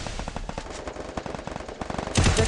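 Rapid bursts of gunfire in a shooter video game, dense and continuous across the clip with sharp repeated reports, growing louder and heavier near the end.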